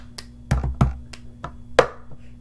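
A plastic cup tapped and slapped against a tabletop alternates with sharp hand claps in the brisk cup song pattern: about eight crisp, close percussive hits over a few seconds, with a quiet hum underneath.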